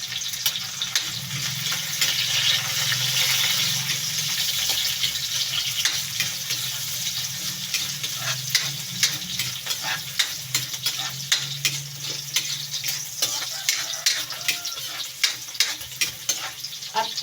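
Garlic frying in a pan for chicken liver and gizzard igado, giving a continuous close sizzle with a rapid run of spatula scrapes and taps throughout.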